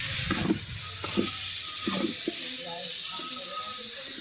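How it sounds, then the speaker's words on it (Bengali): Khichuri ingredients being sautéed together in a pan at a home Saraswati Puja: a loud, steady frying hiss fills the whole stretch while a voice talks over it at intervals. "দেখেন কি সুন্দর করে একসাথে সব কষিয়ে নিচ্ছে"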